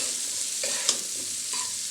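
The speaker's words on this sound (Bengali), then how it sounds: "এখন আলুগুলোও একটু ভাজা ভাজা হবে আর পেঁয়াজটাও তার সঙ্গে ভাজা ভাজা হবে" Small potatoes and onions fry in hot oil with a steady, close sizzle, while a spoon scrapes and stirs through them in a couple of brief strokes; no voices.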